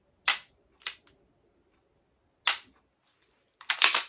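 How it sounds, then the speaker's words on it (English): Revolver shots fired in double action on a pistol range: four sharp, loud reports spaced across a few seconds, the last a quick cluster of overlapping cracks, with quiet gaps between. "we'll fire one shot"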